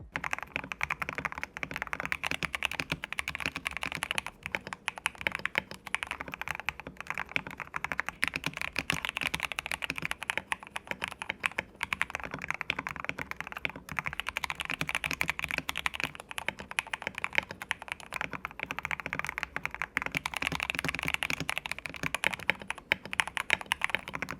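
Steady, continuous typing on a Vissles V84 mechanical keyboard, close and crisp, with rapid clacky keystrokes running throughout and no voices.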